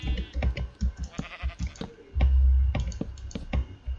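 Sheep bleat in a video game, several short cries in quick bursts mixed with rapid clicking and keyboard typing up close.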